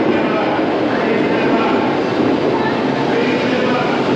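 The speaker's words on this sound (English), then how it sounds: "And here arrives the train." Train pulling into a station in Hakone, Japan, a loud, continuous rumble and rush of wheels and air that stays steady and close throughout.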